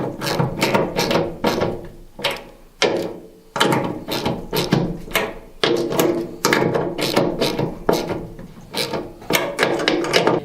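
A ratchet clicks in repeated rapid bursts while tightening bolts in a crisscross pattern on an Aeromotive Phantom Dual 340 in-tank fuel pump module, close and crisp with short pauses between strokes.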